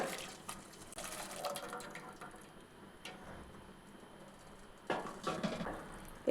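Water splashes and trickles into a container in short bursts, with faint clinks and quiet pauses between pours.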